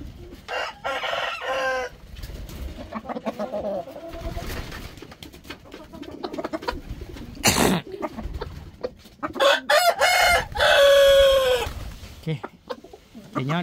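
Backyard coop full of chickens and a rooster: loud crowing, clucking and bird calls come in bursts throughout, with a person talking intermittently in between.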